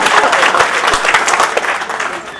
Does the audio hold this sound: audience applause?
yes